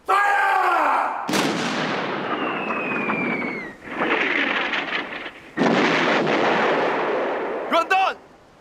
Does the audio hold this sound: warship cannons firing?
yes